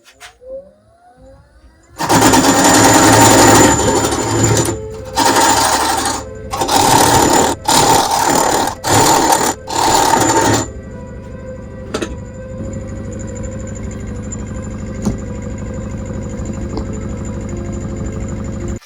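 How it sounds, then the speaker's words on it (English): A chisel cuts an old walnut burr fruit bowl spinning on a wood lathe, loud rough cutting in several bursts over the first ten seconds, then the lathe keeps running with a steady motor hum and faint scraping. "I'll keep going with the chisel just to try and create the shape of the bowl."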